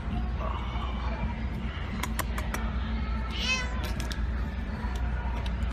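A pet cat meows once, a rising and falling call, close by over a steady low mechanical hum with faint clicks around it.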